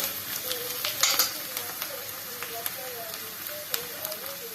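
Tomato paste sizzles and fries in a pan alongside leeks for an olive-oil leek dish with mandarin juice, a steady crackling hiss with faint stirring and brief bursts, while a voice talks quietly over it.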